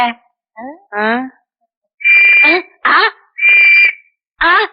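A whistle that a man has swallowed sounds in short, shrill, loud bursts, each about half a second long, mixed with brief squeaky vocal noises and separated by silences.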